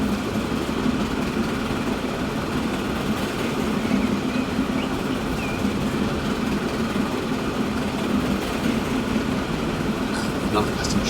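A passenger train in the railway simulation game Transport Fever 2 rumbles along steadily, a continuous low rolling drone with engine hum and faint rail noise, heard alone throughout.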